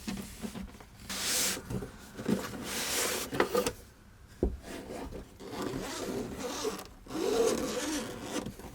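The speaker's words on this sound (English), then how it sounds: "it comes packaged in this black zip-up case" A black zip-up carrying case for a Renpho C3 percussion massager being unzipped, with several close, raspy zipper pulls separated by brief pauses and rustling handling noise.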